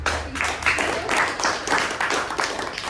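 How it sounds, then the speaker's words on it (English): Scattered clapping from a small meeting audience in a Toastmasters session, moderate and steady with individual claps audible, for about three seconds. "let's give a big round of applause to all the prepared speakers"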